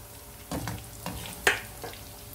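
Cauliflower frying in oil produces a soft sizzle with several bursts of stirring and one sharp clink of a utensil against the pan, quiet and without speech.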